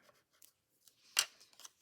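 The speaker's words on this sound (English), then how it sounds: "see if I can do this with scissors" Scissors cut an index card for a craft project, giving a single sharp snip that stands out clearly against quiet surroundings, with a few faint rustles before and after it.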